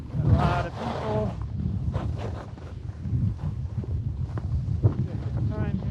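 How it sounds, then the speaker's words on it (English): Constant rushing wind buffets a helmet-mounted GoPro while skiing at speed, a broad roar filling the whole stretch, with a voice talking underneath. "This is a little audio test at speed with some wind, GoPro mounted on my helmet"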